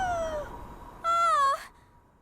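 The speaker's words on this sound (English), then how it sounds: "The first time I heard the fox cry out as it died was pretty jolting." A fox cries out as it dies in the video game Never Alone: a thin falling wail, then a louder, higher drawn-out cry that wavers and fades.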